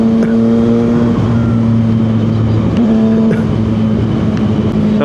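A 675 SR motorcycle engine drones steadily loud on the road during a group breakfast ride, holding a sustained buzzing pitch with slight shifts as it accelerates, wind noise around it and no voices.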